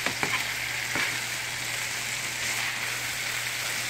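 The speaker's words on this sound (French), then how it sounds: "On laisse revenir que le morue et l'hareng puissent prendre tous les goûts de l'oignon, l'échalote, les poivrons, oignons verts." Steady loud sizzle of salt cod and smoked herring frying in olive oil with onion, shallot, peppers and green onions, a continuous hiss with a few faint clicks near the start, close up with no talk.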